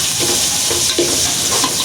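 Onions for biryani sauté in a pan, a loud steady close sizzle with a few soft stirring swishes and no voices.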